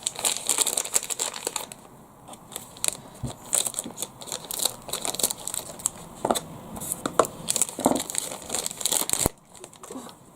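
A pink plastic blind bag holding a Mini Boos collectible is crinkled and torn open: busy, close rustling crackles with sharp snaps and crunches that continue throughout, with no talk.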